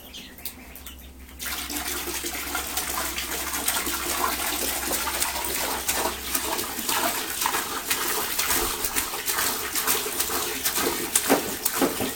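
Steady water splashing and gurgling at a duck pond after a quiet opening, with faint bird calls and occasional knocks over the continuous wash of water.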